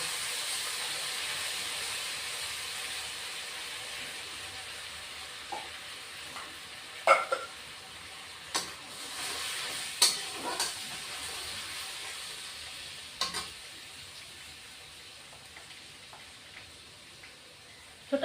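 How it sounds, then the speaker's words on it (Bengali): Tomato paste fries in a pan for egg masala with a continuous hissing sizzle that slowly fades, broken by a few sharp clinks and scrapes of a spoon, with no talking. "টমেটো পেস্টটা দিয়ে দিচ্ছি"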